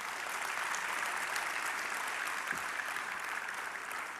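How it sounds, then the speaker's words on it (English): A summit audience in a Lagos hotel hall applauds the governor's introduction, a broad, steady wash of many hands clapping at moderate distance with no pauses. "That applause is not loud enough."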